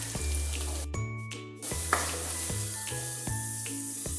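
Garlic sautéing in hot oil for Kerala-style mango pickle gives a steady, close sizzle, broken by a brief pause and a few stirring clinks, with no talk over it.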